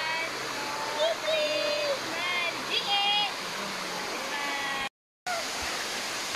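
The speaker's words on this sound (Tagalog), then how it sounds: "Kan Umantad Falls sa Kandihay, Bohol." Can-Umantad Falls in Candijay, Bohol, a steady broadband rush of falling water close by, with bird calls and a few faint voices over it and a brief dropout near the end.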